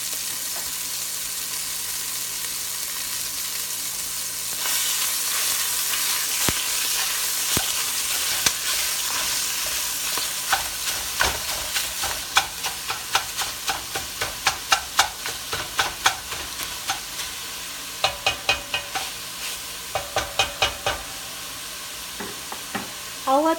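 Meat for jambalaya browns in a hot pan, giving a steady broadband sizzle, with sharper crackles and scraping stirs growing more frequent toward the end.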